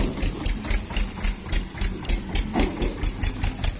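A tractor engine runs on muddy farm fields, a steady, loud rhythmic diesel chugging close by with no speech.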